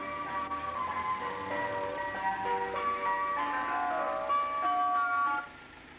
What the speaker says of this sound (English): The driver plays a tune to let you know he's ready to sell his ice cream.